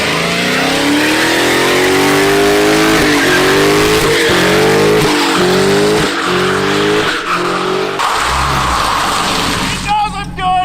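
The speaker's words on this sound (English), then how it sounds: "let's see if it does burnouts" A Dodge Hellcat does burnouts, its engine revving hard in repeated loud rising bursts as the tyres squeal and skid throughout, with a voice cheering briefly near the end.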